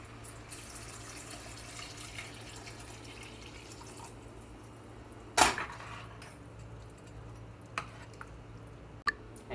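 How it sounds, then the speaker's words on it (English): Water poured over washed rice while making masale bhat: a steady, soft splashing pour with a few light clinks and drips, close by with no talk. "So now I'm going to put in the water."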